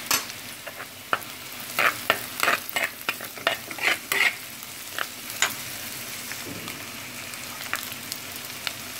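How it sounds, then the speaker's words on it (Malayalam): Fenugreek seeds fry among sautéed onions in a pan for a Kerala fish curry. A spoon scrapes in quick, clattering bursts over a low steady sizzle, and the stirring eases off toward the end. There is no talk. "ഇനി അതിലോട്ട് നമുക്ക് ആദ്യം ഉലുവ ചേർത്ത് കൊടുക്കാം."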